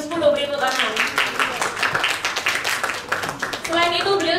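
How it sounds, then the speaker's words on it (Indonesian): Audience clapping at a campus event honouring an agricultural extension officer, a dense patter of hand claps with a voice and other voices mixed in throughout. "beri tepuk tangan"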